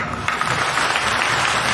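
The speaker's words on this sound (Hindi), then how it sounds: "ताली बजा दीजिएगा थोड़ा सा।" An audience at a Hindi poetry gathering (kavi sammelan) in Indore gives brief applause, a dense wash of clapping that stays fairly even for under two seconds.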